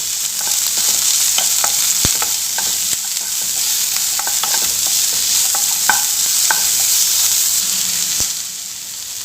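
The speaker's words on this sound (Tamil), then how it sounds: "வெங்காயம் ஓரளவுக்கு வதங்கிக்கிட்டு இருக்கு" Onion, ginger and garlic sautéing in a pan for white egg kurma, a loud, close, continuous sizzle and hiss with scattered light spatula clicks and scrapes throughout, easing slightly near the end, with no one talking.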